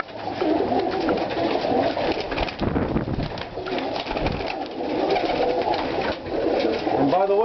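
Roller pigeons coo in a loft, soft repeated throaty calls layered over one another, with someone talking over the birds for much of the time.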